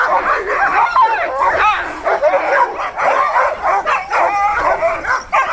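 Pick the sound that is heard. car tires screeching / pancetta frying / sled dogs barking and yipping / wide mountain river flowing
sled dogs barking and yipping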